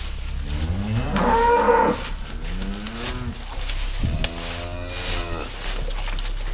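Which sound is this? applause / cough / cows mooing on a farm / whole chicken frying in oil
cows mooing on a farm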